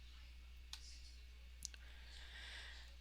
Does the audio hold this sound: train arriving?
no